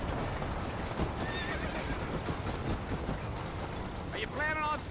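Horse hooves pounding in Red Dead Redemption, a steady muffled gallop under background noise, ending with a clear neigh and snort near the end; a voice talks over it.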